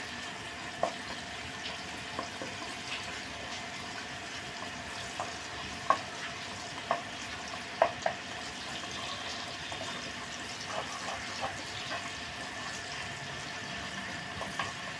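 Sliced onions frying in oil to make crisp beresta for kala bhuna give a steady, faint sizzle, with occasional small clicks from the pan.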